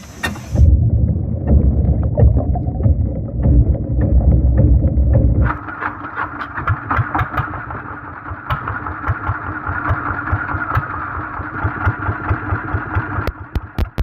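A boat powered by twin used 24 HP dompeng engines starts up. A loud low rumble gives way to a sharper, rapid chugging as the engines catch and run steadily, close and dominant throughout.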